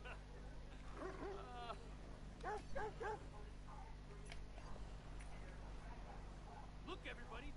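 A dog in the video game Watch Dogs gives soft barks, yips and whimpers in short bursts over a steady low game hum, fairly quiet and close.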